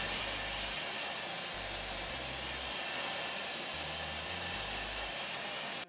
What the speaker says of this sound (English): And then you just take a blow dryer and cool to dry the adhesive.